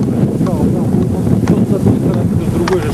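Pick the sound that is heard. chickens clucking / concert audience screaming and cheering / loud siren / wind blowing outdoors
wind blowing outdoors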